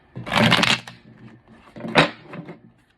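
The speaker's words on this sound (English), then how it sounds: "Do y'all like when I shuffle on camera?" Tarot cards shuffled up close in two quick riffling bursts, a longer one at the start and a shorter one about two seconds in, with soft card taps between them and no talking.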